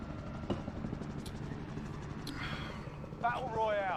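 A helicopter in Call of Duty Warzone, heard as a steady, fairly loud low rotor and engine rumble that fills the whole stretch, with brief breathy vocal sounds and higher tones rising near the end.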